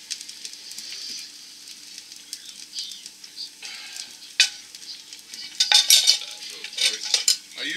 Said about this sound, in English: I use stainless steel chopsticks, usually, for stirring.